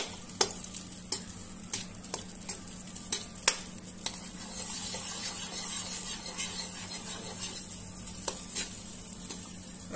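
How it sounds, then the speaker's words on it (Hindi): Butter melting and being stirred in a pan, with soft sizzling under a series of sharp, evenly spaced scrapes and taps of the spoon against the pan, close and moderately quiet, no talking. "इसको चलाएंगे तो ये जलेगा नहीं"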